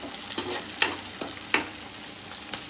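Chopped ginger, garlic and chilli fry in a pan with a steady sizzle, broken by four sharp scrapes of a spatula against the metal, spaced unevenly and heard close with no voices.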